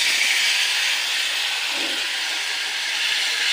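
Curry poured into a big black wok (kadai) sizzles with a steady, loud hiss that fills the whole moment without pause, no voices over it.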